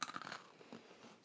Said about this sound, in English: Has a nice crunch.